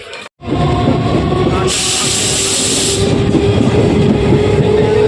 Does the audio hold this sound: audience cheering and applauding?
no